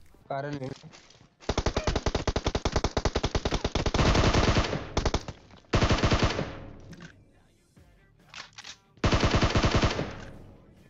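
M4 rifle gunfire in the mobile game PUBG Mobile: loud, close automatic bursts, three long volleys broken by short gaps and a few scattered shots.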